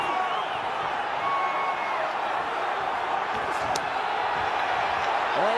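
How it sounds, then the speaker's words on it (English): Boxing arena crowd at the Kambosos Jr vs Haney title fight roars steadily in the final minute, a dense continuous wall of cheering and shouting that stays loud throughout with faint commentary underneath. "Crowd trying to rally support for Kambosos here."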